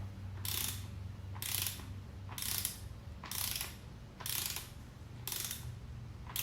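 A threaded part is turned by hand during a Legend AXEO 23 install, producing six evenly spaced bursts of ratcheting clicks over a low steady hum, close and fairly quiet.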